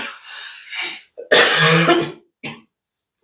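Several coughs and throat-clearing bursts from one person, close and fairly loud, spaced irregularly with short silent gaps between them.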